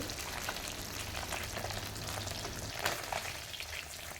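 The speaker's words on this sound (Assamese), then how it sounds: "এইফালে মাছখিনি ফ্ৰাই কৰি লৈছোঁ।" Fish frying in hot oil, a steady broadband sizzle and crackle that holds even and close for the whole stretch, with a few brief louder pops and no voices.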